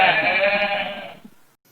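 A young goat gives a single loud, wavering bleat that fades out after about a second.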